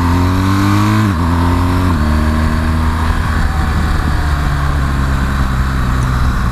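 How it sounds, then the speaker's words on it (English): A BMW GS motorcycle engine roars loudly as the rider accelerates to overtake a van on the road. The pitch climbs and drops back twice as the gears change, then the engine holds a strong, steady drone. "When I want to overtake like I just did there, there's absolutely loads of go in this bike."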